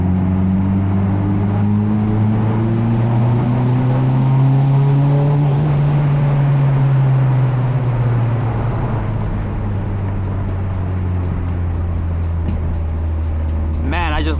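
A Mitsubishi Evo X running on E85 fuel has its engine spooled up, a loud, close, steady mechanical roar that rises in pitch and then settles, with a voice talking over it throughout.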